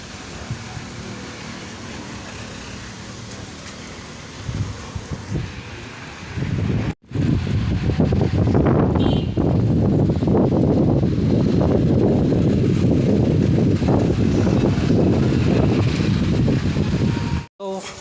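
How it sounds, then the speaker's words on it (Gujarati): Strong, steady wind roars in gusts ahead of a summer rainstorm, a loud continuous rush with a brief cut partway through and faint buffeting against the microphone. "ધીમે ધીમે વરસાદ આવવાનું ચાલુ થઈ ગયું છે પવન પણ એવો ને એવો જ છે"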